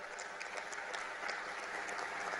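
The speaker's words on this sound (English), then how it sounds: "Let's give a round of applause." Audience applause in an exhibition hall after an industrial policy roadmap exchange between Indian and Japanese officials; a dense, steady wash of many hands clapping from a short distance, with no talk.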